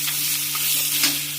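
Ingredients crackle in hot oil in a pan, a steady close sizzle with a soft continuous hiss, light pops and a low steady hum beneath.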